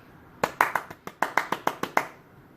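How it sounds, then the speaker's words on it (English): About a dozen sharp hand claps from one or two people, close and distinct, in an uneven rhythm over roughly a second and a half in a quiet room. "Round of applause."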